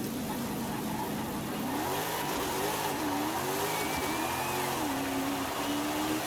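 A Lexus race car in Forza Horizon 5 revs steadily with a droning engine note that rises and dips through the gears, loud and constant with no voices.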